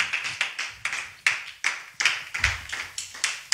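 A church congregation claps to acclaim the Lord in a steady, brisk rhythm of sharp, close hand claps, about three per second, with no voices over them.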